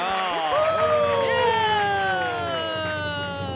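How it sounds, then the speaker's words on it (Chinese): A red team's cheering and shouting fills a television game-show studio during a Mid-Autumn Festival special, loud and sustained for several seconds with overlapping voices. "红队自己欢呼一下啊！"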